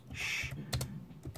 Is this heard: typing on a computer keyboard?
yes